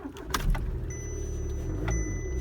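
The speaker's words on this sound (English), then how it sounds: "Sounds like a usual diesel." Faint low rumble of an Audi A3 diesel engine idling steadily in the background, with a few light clicks and rattles near the start.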